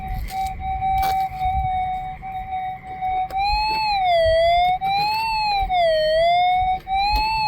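A steady electronic target tone from a Garrett Axiom metal detector with an 11-inch mono coil holds level, then warbles up and down in pitch as it continues, loud and clear with no talking.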